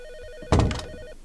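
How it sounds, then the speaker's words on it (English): A telephone rings once in the horror game P.T., a short loud burst of bell tone over a quiet electronic hum. "Got the phone call for Kyle"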